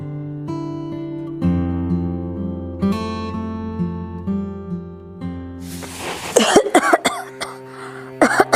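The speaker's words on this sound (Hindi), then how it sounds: "साहब अचानक से खांसी आ गई।" A woman coughs several times in quick harsh bursts near the end, close and loud, after sustained music tones.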